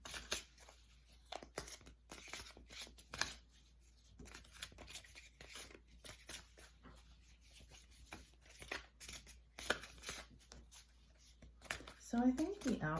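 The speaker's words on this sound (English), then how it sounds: "Give it a little shuffle." Oracle cards from a Dreamweaver deck being shuffled by hand, a series of quiet papery riffles and scrapes close by, separated by short pauses, with low speech heard at times.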